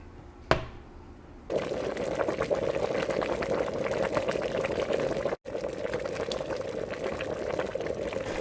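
Potatoes boiling in a pot on a kitchen stove, a steady close bubbling and simmering wash that starts after a brief clatter and continues unbroken apart from one momentary dropout.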